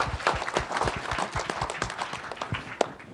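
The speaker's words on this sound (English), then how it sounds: "big round of applause for the hard work that they did for the Capture the Flag" Applause for Capture the Flag teams at a cybersecurity awards presentation, a steady crowd clapping throughout with dense overlapping claps and one sharper clap near the end.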